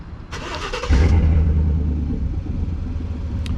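A 2019 Chevrolet Silverado's engine is remote started; after a brief lead-in it catches with a loud, deep exhaust rumble that stays strong and steady, easing slightly, with no one talking.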